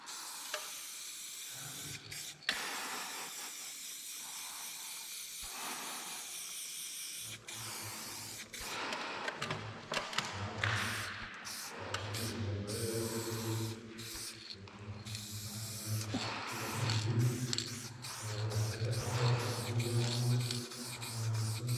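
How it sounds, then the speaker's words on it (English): Spray paint can hissing out graffiti in an abandoned factory, steady bursts of spraying that grow denser and louder toward the end, with rattling in between. "I will just paint over it with the spray paint."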